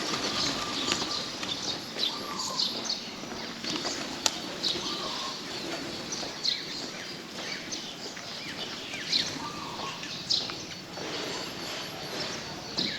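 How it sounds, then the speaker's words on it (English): Pigeons being fed at a Thai temple: repeated bursts of wing flapping and faint cooing over a busy outdoor background, the flutters rising and falling across the scene. "Look, pigeons are getting fed"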